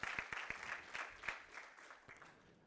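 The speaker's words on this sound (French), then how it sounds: "Je peux les applaudir." Church congregation applauding its elders, a scattered round of hand claps with distinct individual claps early on, moderately near and fading gradually.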